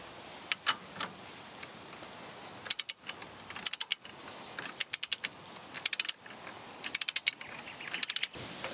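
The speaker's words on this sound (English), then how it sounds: "torque them up to the right spec. So this is an M14 bolt, so they've got written on there torque up to 135 Newton meters" Ratcheting clicks in short bursts as a torque wrench tightens an M14 bolt to 135 newton meters during a suspension lift kit install, the quick clicking runs repeating between brief pauses, close and clear with no talking.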